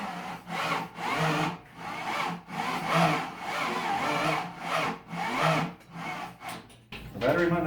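Mopar 5.9 Magnum V8 turning over on its starter on a garage floor, a loud, steady rhythmic cranking churn with regular pulses for several seconds, the pattern breaking near the end.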